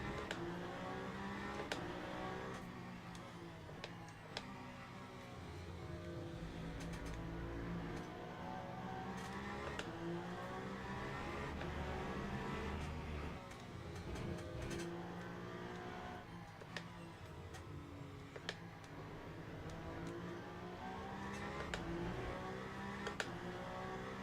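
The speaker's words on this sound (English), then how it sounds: "Oh, big slide there by the Ferrari" Ferrari race car in a racing video game during a 6 Hours of Qatar endurance race, with engine drone, revving and tyre noise through a slide, loud and continuous with several cars nearby and scattered clicks over the top.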